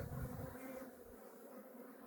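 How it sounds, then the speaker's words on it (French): Young honeybees buzz in an opened hive, a close, steady drone of many wings that hums continuously and eases slightly toward the end. "C'est des jeunes abeilles, elles sont petites."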